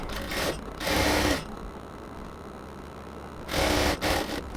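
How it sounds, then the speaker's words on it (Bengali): Sewing machine stitching the folded hem of a salwar, running in two loud bursts of rapid mechanical whirring separated by a quieter pause with low background hum. "সালোয়ারের এই মুখটাকে আমরা সুন্দরভাবে সেলাই করে নিছি"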